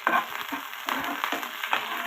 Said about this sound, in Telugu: ఆయిల్ వేసుకోవాలి ఇప్పుడు ఇందులో కచ్చా పచ్చగా దంచుకున్న వెల్లుల్లి రబ్బలు వేసుకొని వేయించుకోవాలి